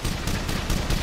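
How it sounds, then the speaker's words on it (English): Burst of powerful automatic gunfire from a BAR rifle fired through a garage door, a rapid series of loud, close reports packed into about a second. "through the actual garage door comes this blast of powerful gunfire"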